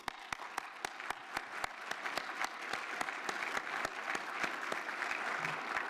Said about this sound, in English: For that, you deserve a round of applause